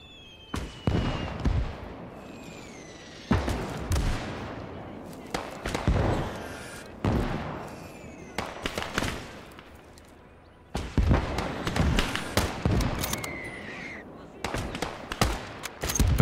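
Gunfire in the Call to Arms Gates of Hell game during a Soviet skirmish battle at Seelow Heights: sharp, loud shots and blasts in irregular bursts, some close and some distant, with echoing tails between them.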